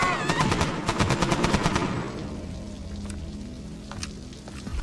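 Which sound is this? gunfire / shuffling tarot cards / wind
gunfire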